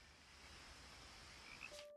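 Frogs croak in a quiet outdoor scene of the video game What Remains of Edith Finch, a faint, steady chorus with a few slightly clearer calls near the end.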